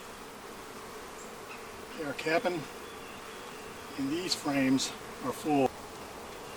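Honey bees hum steadily around the frames of a Flow Hive, a close, constant buzz, while a person briefly speaks over it.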